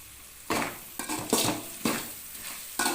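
Onions are stirred in a hot pan for okra fried rice, with a spatula scraping and clinking in several bursts over a soft sizzle.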